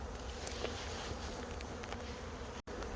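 Honeybees hum in a dense, continuous buzz inside a hive box during spring colony checks before a move to rapeseed, steady and fairly close with no talk, one brief dropout near the end.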